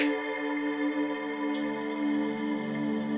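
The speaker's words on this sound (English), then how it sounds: "very lush and spacey kind of reverb that I really like." Ambient synth pad in Arturia Pigments run through the lush, spacey Sinus X1 enlarged reverb, a sustained chord held with a long, smooth wash and no breaks or voices.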